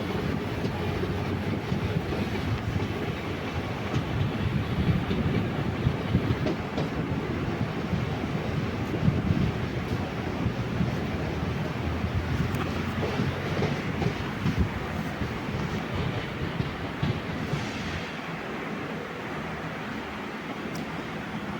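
The Punalur–Nagercoil passenger train rolls into Varkala Sivagiri station with a steady, loud rumble and rhythmic rail clatter from on board, easing slightly toward the end.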